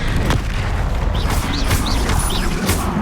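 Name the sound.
Expelliarmus spell being cast, from video game Hogwarts Legacy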